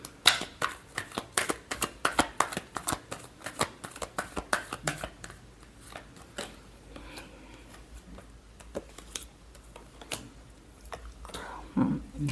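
Tarot cards are shuffled by hand for a weekly horoscope reading, giving a run of crisp, rapid riffling flicks near the start that thin into sparser, softer card slides and taps, with no talking.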